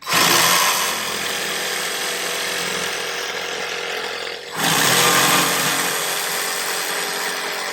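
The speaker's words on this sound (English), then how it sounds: "we can use the jigsaw completely how we want it" A jigsaw cuts a sink opening in a trailer countertop, a loud close continuous buzzing saw that dips briefly midway as the cut pauses, then resumes at full strength.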